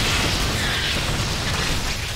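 StarCraft 2 roaches firing on buildings, a dense, continuous wash of game combat noise with low rumbling bursts and hissy high texture, steady and loud throughout with no voice.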